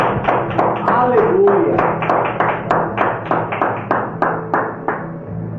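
A church congregation claps in a steady, even rhythm, loud and close, for several seconds while voices call out over the beat.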